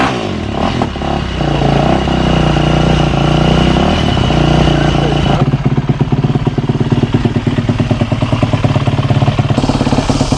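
A Yamaha YZ 450 dirt bike engine revs loudly up close, climbing and falling in pitch before settling into a rapid, rhythmic idle thump.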